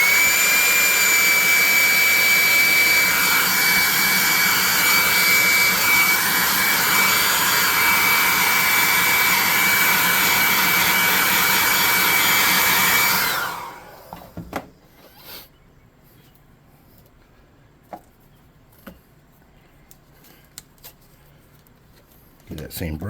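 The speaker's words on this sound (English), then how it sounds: "Hot air gonna dry him, or burning." A hot air tool drying paint on a miniature Bulette figure roars with a loud, steady whine for about thirteen seconds, then cuts off, leaving quiet handling clicks and small taps.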